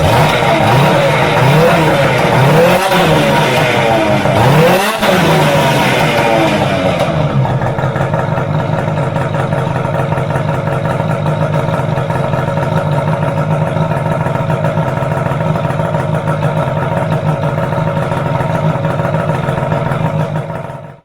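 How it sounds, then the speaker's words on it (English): A 2019 Polaris RMK snowmobile engine fitted with a loud aftermarket exhaust can revs hard at first with rising and falling pitch, then settles into a steady loud idle-like drone, close up with no talking. "Thing's got a muffler on it. That can on there is loud."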